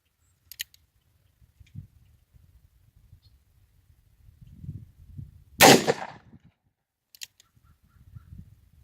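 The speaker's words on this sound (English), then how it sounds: "Last 5 shots." A single sharp, loud gunshot from a cowboy action cartridge fired at an outdoor range cracks out after faint scattered ticks and handling noise, then fades into quiet.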